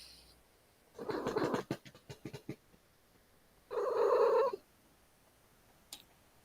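A cat purrs loudly in two strong, rumbling bursts close by, separated by a short pause, with a few scratchy taps in between.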